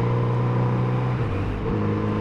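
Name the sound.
car with tuned aftermarket exhaust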